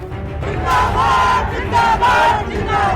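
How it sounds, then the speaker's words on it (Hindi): Crowd of thousands of state employees marching through Jaipur streets at a protest rally, a dense roar of many voices with chanting and shouted slogans rising and falling throughout. "राजधानी जयपुर की सड़कों पर ये भीड़ राज्य कर्मचारियों की है।"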